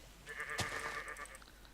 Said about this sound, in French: Les moutons vénères!